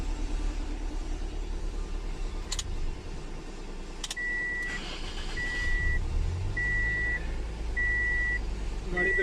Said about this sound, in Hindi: तो गाड़ी को अब मैं स्टार्ट करता हूँ, स्टार्ट करके आपको चेक करवा देता हूँ।